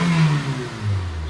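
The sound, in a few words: 1998 Nissan Sentra engine revving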